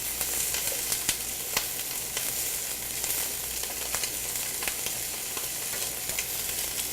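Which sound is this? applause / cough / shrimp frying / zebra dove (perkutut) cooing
shrimp frying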